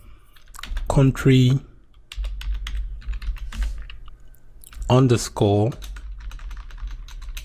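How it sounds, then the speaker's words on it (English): Quick bursts of keyboard typing accompany a PostgreSQL query being entered, sharp close clicks scattered through the clip, while a person speaks over parts of it. "So I'm going to type here"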